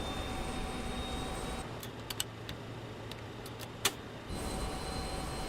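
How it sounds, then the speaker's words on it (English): An RJ85 jet engine igniter ticks in a flight simulator cockpit: a short run of sharp, irregularly spaced clicks, one louder snap among them, over a low engine hum that drops away and then returns. "Listen to the igniter."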